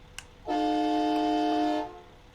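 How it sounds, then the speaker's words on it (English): A single long blast, about a second and a half, of the train horn fitted to a modded Kenworth T-800 truck in American Truck Simulator, loud, steady and chord-like, starting and stopping cleanly. "And of course I put train horns on it because train horns."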